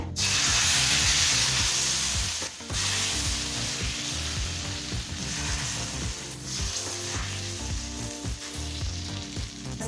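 A thin rava dosa fries on a hot pan over a medium flame with oil or ghee, giving a loud, continuous crackling sizzle, close up and with no voices.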